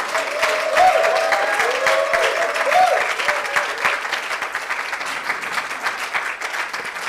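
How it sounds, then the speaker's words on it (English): Conference audience applauding a speaker being introduced at a project management event in Ghana, steady, dense clapping from a large room that carries on for several seconds, with a few voices mixed in. "Please, a huge round of applause, ladies and gentlemen, for Lee R. Lambert."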